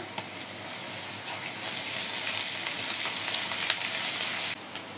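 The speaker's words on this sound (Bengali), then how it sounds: "পেঁয়াজটা মোটামুটি নরম হয়ে গেছে, মশলা দিয়ে দেব। একটু আদা বাটা, রসুন বাটা," Onion with spices and ginger and garlic paste fries in a pan, a continuous loud sizzle with stirring scrapes, cutting off sharply near the end.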